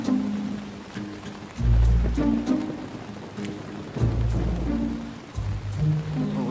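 Steady rain falls outdoors at a tennis training session, a constant dense hiss with deep rumbling swells rising and fading throughout, no voices.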